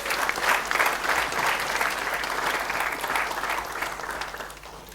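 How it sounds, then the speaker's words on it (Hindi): An audience at a seminar held at Shri Ram Mandir in Auckland, New Zealand, claps loudly and steadily for several seconds, a dense wash of hands filling the room with no voices over it. "तो जोरदार तालियां इन सभी के लिए"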